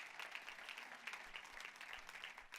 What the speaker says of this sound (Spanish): Denle un aplauso al Rey de la Gloria conmigo.